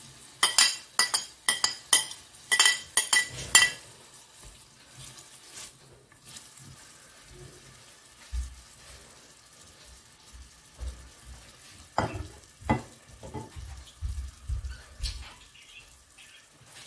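Onions going into a pot of frying lamb for okra stew, opening with sharp clinks of a metal spoon against the pot, then quieter stirring and scraping over a faint sizzle, with occasional low thumps.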